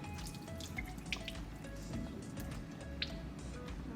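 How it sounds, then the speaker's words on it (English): Water with an egg in it is poured out into a sink during a classroom egg osmosis lab, giving a steady low splashing and running flow with a few faint drips and clinks, with no talking. "let's dump this out in the sink."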